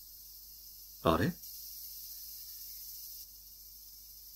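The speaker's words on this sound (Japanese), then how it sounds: "あ、セミの声、" Cicadas shrill in a horror video game as a continuous, thin, high buzz in the background, broken briefly by a short spoken exclamation.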